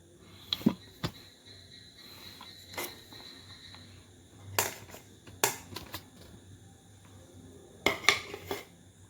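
Chopped green chillies, coriander and curry leaves mixed in a bowl with a little cumin, heard as a few sparse clinks and scrapes of utensil against the bowl, quiet in between with faint background hiss.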